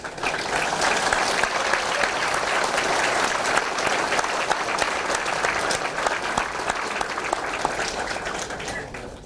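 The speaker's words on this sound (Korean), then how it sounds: "믿음과 격려의 힘찬 박수로 서로 인사부터 나누십시다" Sustained, vigorous applause from a large crowd at a political party founding rally, dense and even from start to finish, with no pause or voice rising above it.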